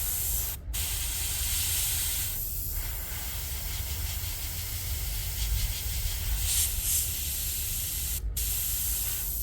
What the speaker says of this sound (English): yeah, spraying out